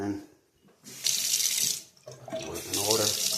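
A newly installed bathroom faucet runs water into a sink in two bursts, a brief hiss followed by a steadier gush, close by and fairly loud, with faint talk underneath.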